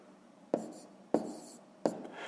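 A pen taps three short, distinct strokes onto paper while numbers are written out for a fifth-grade math exercise, quiet and close with no talking.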